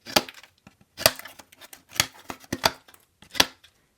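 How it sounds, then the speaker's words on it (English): Full-size scissors on a NexTool Flagship Pro multitool snip through rope in five or six crisp, separate cuts at a steady pace, close and fairly loud, with no talking. "it's going to cut really nice. So, wow, there's a full-blown scissors right there."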